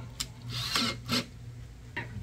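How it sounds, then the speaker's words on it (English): Brief scraping and rasping bursts come from tightening down the skeg on an Arkmodel Type VII RC submarine model kit. They are close up, with short gaps between them. "Just tightening down the skeg here."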